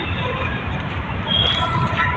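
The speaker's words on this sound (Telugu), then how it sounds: "ఈడ అయితే చాలా మెట్రోస్ పోతున్నాయి" Metro trains rumble past near a metro station, a steady low roar of rail traffic with a faint wheel squeal rising briefly midway, close and continuous.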